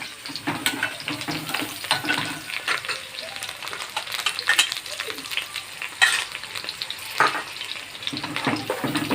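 Tomato paste masala for butter bhindi sizzles in a pan as a spoon stirs it slowly. Close wet sizzling runs throughout under repeated scraping strokes and sputters, with no talking.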